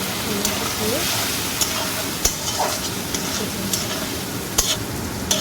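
Steady sizzle of frying fish oil with cumin paste in hot oil, with occasional stirring scrapes and faint clicks throughout.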